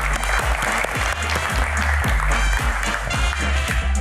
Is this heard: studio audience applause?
yes